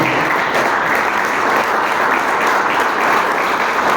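A church congregation at Igreja Comunidade Cristã Graça e Paz claps strongly: a loud, dense, even wash of applause lasting the whole stretch without pause.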